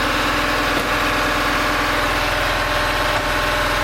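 A ship's engine runs steadily in the enclosed engine room of the vessel El Primero, a loud, continuous low droning hum with a constant mechanical throb and no voices.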